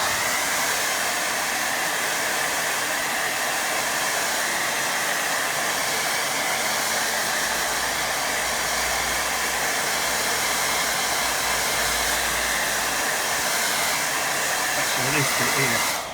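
A hair dryer blows steadily and close for the whole stretch, a loud even airy roar drying a watercolour painting, with a brief shift in tone near the end.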